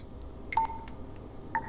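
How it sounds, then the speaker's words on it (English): A wall-mounted phone rings with short electronic beeping tones, two brief bursts about a second apart, fairly faint in a quiet room. "Oh, my phone's ringing."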